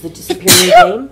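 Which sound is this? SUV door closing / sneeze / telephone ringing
sneeze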